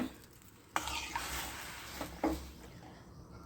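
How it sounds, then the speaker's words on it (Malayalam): A spoon stirs tamarind-water rasam in a pot on the stove, a steady scraping swirl over a soft sizzle, with a couple of sharper clinks against the pot near the middle of the short stretch. "എല്ലാം കൂടെ ഒന്ന് ഇളക്കി കൊടുത്ത് ഇത് തിളയ്ക്കുന്നത് വരെ നമുക്ക് കാത്തിരിക്കാം"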